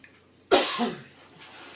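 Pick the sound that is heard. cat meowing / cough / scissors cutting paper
cough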